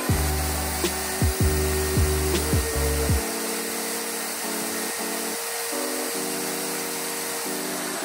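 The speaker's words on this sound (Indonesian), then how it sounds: "Sekarang kita akan coba untuk kecepatan yang paling tinggi." A Browynn 13 mm 710 W impact drill runs at its highest speed, a loud steady electric whine that ramps up in rising pitch sweeps then holds a constant high-speed drone, close and alone.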